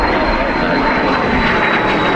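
An airliner takes off at Dublin Airport, producing a loud, continuous broadband engine roar that stays steady and close throughout.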